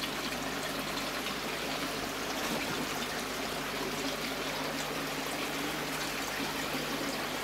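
Dirty pond water gushes and trickles steadily from a clear braided hose, a continuous rushing flow with a low mechanical hum beneath it.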